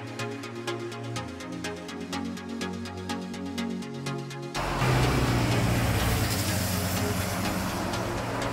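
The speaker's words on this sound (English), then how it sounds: "So my first location was quite busy in terms of cars and car noise." Steady traffic noise from a busy street, first a softer mixed rumble, then louder, denser broadband wash of passing cars after the midpoint, continuous with no talk.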